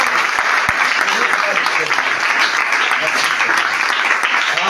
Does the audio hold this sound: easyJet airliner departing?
no